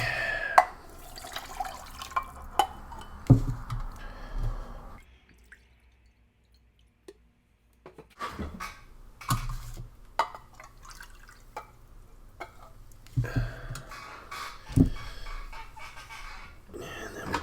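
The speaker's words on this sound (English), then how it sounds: "As I friggin' spill water everywhere" Water drips and splashes from a sloshing spilled canteen thermos, several small irregular drops and spatters close by, with a quiet pause midway and some talk around it.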